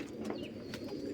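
Pigeons kept in a coop coo softly in a low, throaty burble that runs steadily through a short moment, fairly close, with no talk over it.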